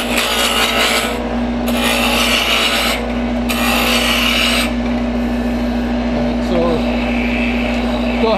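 A wood lathe spins a bottle-stopper blank between centers at about 2800 RPM, with a steady motor hum under loud, rasping bursts as the tool cuts the blank round, pausing between passes and ending with lighter scraping.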